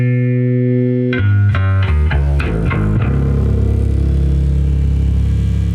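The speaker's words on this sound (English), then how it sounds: "The cab farts out at higher volumes though." Loud, distorted bass notes from a Traynor YGA-1A amplifier, its speaker cabinet buzzing and breaking up harshly at high volume as a short descending run is played, then a sustained fuzzy drone.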